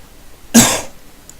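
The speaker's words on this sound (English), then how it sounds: "Don't know why I cough and phlegm up when I talk" A single sharp, close cough with a rough throat-clearing tail, loud and alone against a quiet room.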